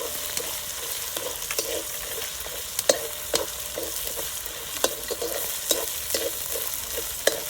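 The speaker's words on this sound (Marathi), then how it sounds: "हे छानपैकी परतून घ्यायचे शेंगदाणे सुद्धा मस्त तेलावून घेतील खरपूस हेचा पण छान परतला जाईल" Peanuts and green chilli thecha fry in oil over a wood-fired stove, giving a steady crackling sizzle with regular scraping stirs of the spatula, close and with no talk.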